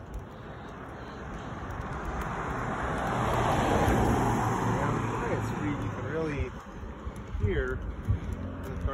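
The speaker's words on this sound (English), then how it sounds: "the cars are coming behind you" Cars approach and pass along a road behind people out walking in the late afternoon, a loud swelling roadway rush with wind buffeting the microphone and people talking nearby.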